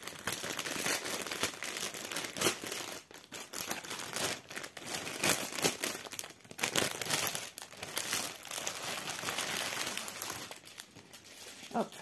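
A crinkly plastic package is opened during an unboxing of craft supplies, giving continuous close crackling and rustling with brief tearing textures throughout.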